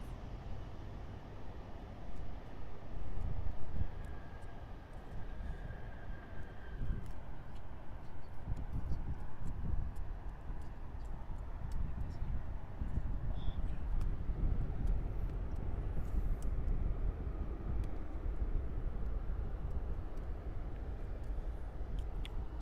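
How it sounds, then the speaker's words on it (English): An American Airlines Boeing 737 from Port of Spain touches down at Miami International Airport, a distant, steady low jet rumble with wind buffeting that swells slightly and carries on throughout, no voices. "an American Airlines 737 from the port of Spain touches down on runway 9er"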